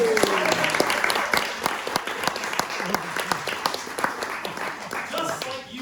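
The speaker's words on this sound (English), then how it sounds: "Round of applause, please." An audience at a shadow puppet storytelling performance breaks into sustained applause, dense claps that rise quickly and then slowly fade, heard at close range with a voice briefly audible over it.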